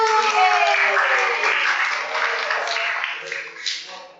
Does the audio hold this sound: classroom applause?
yes